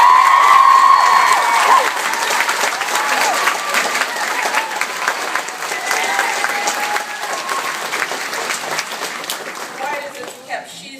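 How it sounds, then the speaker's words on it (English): Audience applause and scattered cheers break out for Mrs. Kenny at a speech in the Gaiety theatre, loudest at first then settling into steady clapping through the crowd. "I want us to give Mrs. Kenny a wonderful round of applause"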